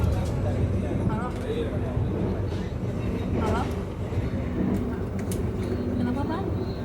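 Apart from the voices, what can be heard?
inside a moving train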